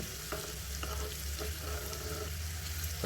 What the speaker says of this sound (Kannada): ಇದನ್ನ ಸ್ವಲ್ಪ ಸ್ಪೂನ್ನಲ್ಲಿ ಈ ಥರ ಕಲಿತ್ಕೊತಾ ಇರಿ